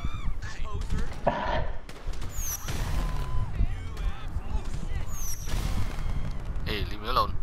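Police gunfire in the video game GTA V, a dense barrage of sharp cracking shots spread across the whole stretch, mixed with crashes, sirenlike tones and other game noise, with voices intermittently over the top.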